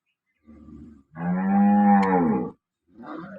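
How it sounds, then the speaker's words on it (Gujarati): A cow lets out one long, deep moo, close and loud, with shorter low grunts just before and after it. "આ ગાય"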